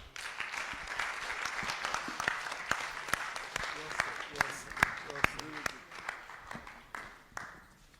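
Scattered, thin applause from a small audience at the end of a CTO's speech at National ICT Week, with distinct individual claps that taper off toward the end.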